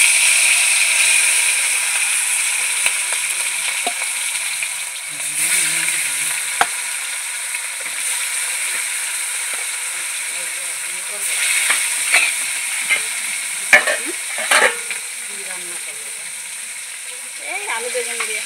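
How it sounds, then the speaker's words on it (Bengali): Hilsa fish pieces fry in hot mustard oil in a wok, giving a continuous close sizzle with occasional stirring clinks and brief faint voice sounds. "মাছগুলো আমি অল্প অল্প ভাজা করে নেব।"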